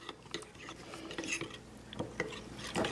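Cornmeal being stirred with a little hot water in a bowl to dissolve lumps for sarson da saag, a spoon clinking and scraping against the bowl in repeated light strokes, close and fairly quiet.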